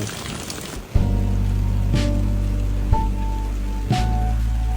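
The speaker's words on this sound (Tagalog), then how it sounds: "Grabe, ang lakas ng ulan." Steady heavy rain pours down continuously, a dense wash of noise with a low rumble, broken by a few sharp thuds and taps.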